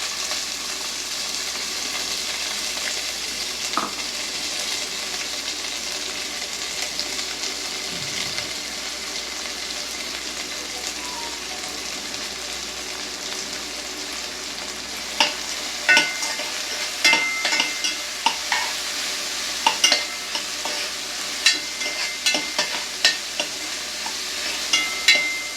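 Small shallots, ginger, cinnamon, cloves and cardamom fry in a pan for a Kerala-style chicken curry, giving a steady close sizzle with scattered sharper crackles and pops, more frequent toward the end, and no talk.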